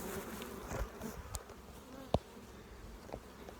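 Honey bees buzzing around an opened hive during a hive restoration, a continuous close droning hum with a few sharp handling knocks, no talking.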